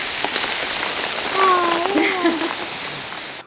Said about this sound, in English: It started pouring during our visit, and he had to go close nets.